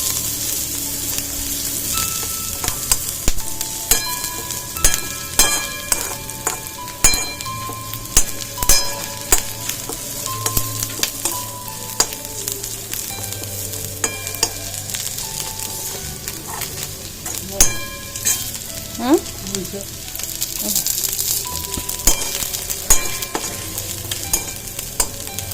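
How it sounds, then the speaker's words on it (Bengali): Onion frying in hot oil in a pan while cooking a pabda fish curry, with a steady sizzle throughout and frequent scraping and clinking of a spatula stirring against the pan, close and fairly loud. "এখন একটু পেঁয়াজ দিয়ে ভাজা করে নিয়ে জল দেবো"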